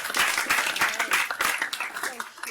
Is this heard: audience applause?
yes